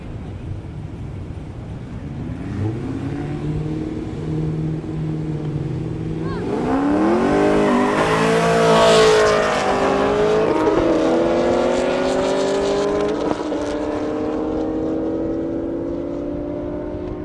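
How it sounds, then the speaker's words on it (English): A Toyota Supra races down a half-mile airstrip at a high-speed event, its engine rising in pitch as it accelerates past, loud and droning with wind noise, then fading slightly. "Devin coming up in a Supra."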